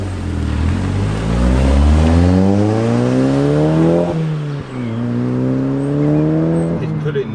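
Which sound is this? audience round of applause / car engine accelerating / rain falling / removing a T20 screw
car engine accelerating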